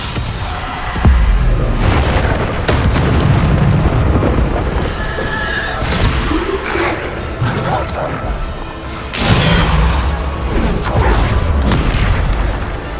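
Bombarda explosion spells in the video game Hogwarts Legacy, heavy booms and crashing impacts bursting repeatedly amid dense combat noise, with a sharp louder blast near the start and another around the middle.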